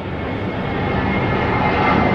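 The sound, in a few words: aeroplane flying loudly overhead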